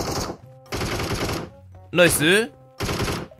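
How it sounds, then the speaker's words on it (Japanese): Gunfire in a video game rings out as a short burst of shots between stretches of talk, with a nearby player's voice speaking before and after it. "なんか、銃声鳴ったね。"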